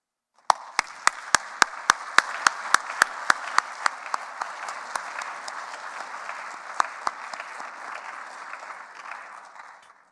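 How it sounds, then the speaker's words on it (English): An audience in a room applauds after a keynote lecture on constitutional studies, heard faintly as a soft wash of clapping punctuated by sharp, regular clicks that thin out over about ten seconds. "there was a big applause in the room"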